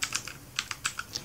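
Crisp, close keystrokes on a computer keyboard entering commands while installing a POS cashier application, about ten quick clicks in an uneven rhythm with nobody talking.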